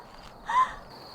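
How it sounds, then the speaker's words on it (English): A crow caws once outdoors on a hilltop at a campsite, a single harsh call rising briefly above quiet background ambience. "The crows were just screaming"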